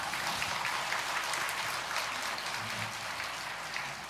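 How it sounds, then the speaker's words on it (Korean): Steady, dense applause from a church congregation, a continuous wash of clapping at moderate loudness that keeps an even level throughout. "이럴 땐 박수 쳐도 되는 거예요."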